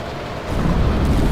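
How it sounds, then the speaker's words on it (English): Passenger train in the video game INFRA rumbling past, a deep low roar that swells after the first half-second and stays loud and steady, with no talk over it. "This place is running active passenger trains."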